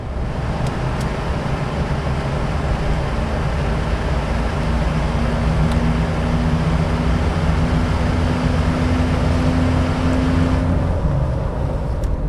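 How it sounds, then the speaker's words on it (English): A 1989 Ford Bronco with a 5.0 engine accelerates under heavier throttle and downshifts, heard from inside as a steady low engine drone that rises in pitch, mixed with constant road rumble. "Heavier into the throttle there, it downshifts like you'd expect"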